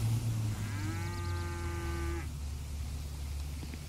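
A cow in the video game GTA 5 lets out one loud, drawn-out moo that fades after about two seconds, with low ambient rumble continuing beneath.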